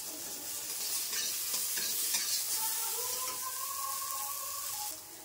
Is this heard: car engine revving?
no